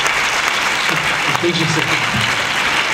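Audience applauding at a film premiere screening in a cinema, sustained steady clapping filling the room for the whole stretch, fairly loud and close.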